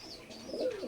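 A pair of Oman bloodline teddy pigeons coo softly, one low rolling coo rising and wavering in the second half, close and alone.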